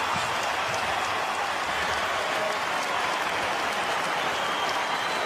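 A North Melbourne football stadium crowd applauds and cheers Jarrad Waite's final goal, a loud, unbroken roar of clapping and voices filling the whole stretch.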